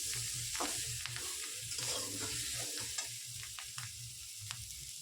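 Mixed vegetables with fried cauliflower fry in a pan for a paneer dish, a soft steady sizzle under frequent rhythmic stirring scrapes and taps.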